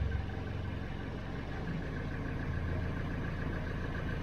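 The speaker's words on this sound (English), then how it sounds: "Put her into neutral and give her a few revs." An engine warming its oil in neutral holds a steady, fairly quiet low hum throughout, with no clear surges in revs.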